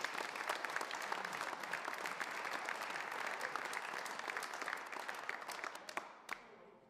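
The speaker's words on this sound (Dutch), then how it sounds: "Geef ze een hartelijk applaus." An audience at a council meeting gives sustained, even applause, many hands clapping close and full before it tapers off into a few last claps.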